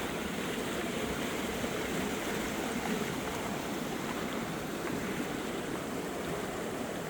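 Water rushing steadily along a canal fed by the Duchesne River, a loud, continuous broadband wash close by with no pauses and no voices.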